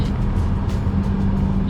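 McLaren Artura plug-in hybrid sports car engine heard from inside the cabin, a steady, loud low drone that holds throughout without clear revving peaks.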